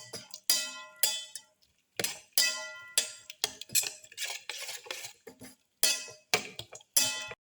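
A utensil clinks sharply against a bowl again and again, beating black pepper into an egg mixture for a fenugreek leaf omelette: close, bright, rhythmic taps with short pauses and no speech.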